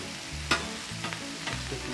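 Onions and peppers sizzling on a Blue Rhino Razor griddle for fajitas, a low steady hiss broken by a sharp spatula scrape and a few softer clicks as the pieces are pushed apart.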